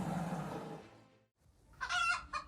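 A chicken clucks and squawks in a short burst after a brief lull, fairly close and clear, while a cat threatens it.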